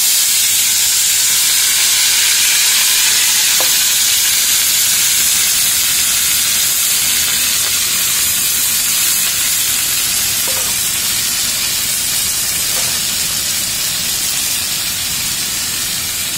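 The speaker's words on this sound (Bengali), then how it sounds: "এরপর আমি খুন্তি দিয়ে আলুটা নাড়তে থাকি" Cut potatoes with whole dried red chillies fry in hot oil in a pan, making a loud, steady hiss-like sizzle throughout with a few faint spatula scrapes as they are stirred.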